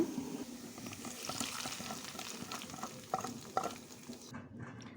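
Lentils go into hot oil tempered with garlic and pickle oil for khichuri and are stirred, giving a steady close sizzle with scraping stirring strokes and a few louder clacks before it cuts off.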